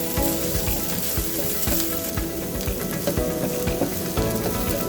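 Onions, ginger, garlic and green pepper fry in a pan with a dense, steady sizzle while a utensil stirs them, its repeated clacks and scrapes sounding close and clear.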